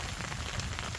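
Heavy rain falls on a military surplus tent during wet winter camping, a steady close hiss of drops drumming on the fabric throughout, with no talking.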